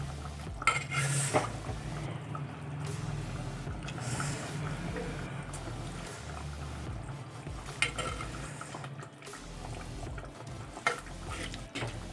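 Metal utensils clink and scrape in a pot while pieces of sandhuva fish are lifted out of tamarind fish curry, with faint bubbling underneath and a few sharper knocks scattered through, with no talking.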